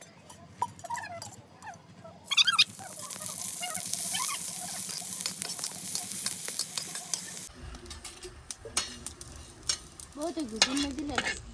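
Coconut and coriander seeds dry-roast in a pan over a wood-fired clay stove outdoors, a hissing sizzle with irregular stirring scrapes, in sections that cut in and out, with a faint dog-like whimper nearby.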